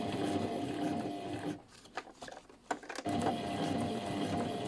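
A domestic sewing machine stitching a short lining seam on a washbag runs with a steady mechanical whirr, stops briefly with small clicks and handling noises, then resumes running continuously.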